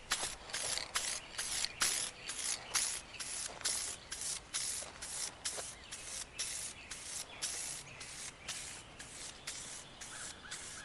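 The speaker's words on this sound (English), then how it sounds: "spray on the gloss clear coat" Gloss clear coat from an Automotive Touch Up spray can hisses onto a car's front lip in a series of close, rhythmic spray passes with slight rattling, continuing with no talking.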